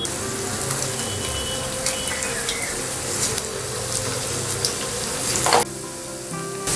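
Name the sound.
green pea vada patties frying in hot oil in a pan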